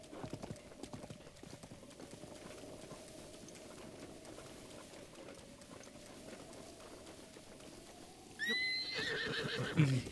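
In Zelda: Breath of the Wild, a horse trots with a steady clip-clop of hooves for most of the stretch, then whinnies loudly near the end, a rising neigh over the continuing gait.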